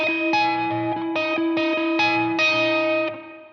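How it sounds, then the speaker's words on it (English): Sustained electric guitar chords ring out with a lush, spacious wash, notes changing every half second or so and blending into one another. "I'm just using the reverb. It's a really nice reverb."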